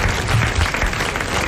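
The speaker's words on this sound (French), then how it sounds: "c'est Monsieur Quénon de Morterie qui gagne ses 500 francs et que vous allez applaudir." Audience at a 1980 French television broadcast applauding a prize winner, with dense sustained clapping that fills the space evenly, loud and close, with no voices over it.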